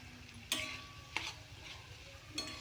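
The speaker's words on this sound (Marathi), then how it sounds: "हे सगळं छान मिक्स करायचं" Dry-cooked bitter gourd is mixed with peanut powder, grated jaggery and coriander, with three separate scraping stirs against the pan over a quiet background.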